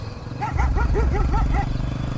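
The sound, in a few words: dog barking loudly in the distance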